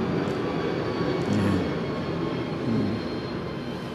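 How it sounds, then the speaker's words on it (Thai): An airplane flies overhead, a loud, continuous broadband roar that holds steady for the whole stretch with no voices over it. "เสียงเครื่องบินมันดัง"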